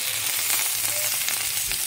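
Potato filling fries in a pan with a dense, steady sizzle close up, a continuous hiss with faint stirring scrapes and no voices.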